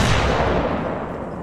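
Sustained burst of gunfire in the Apex Legends Mobile battle royale game, loud and dense with a booming low end, rolling continuously for about a second and a half with no voices over it.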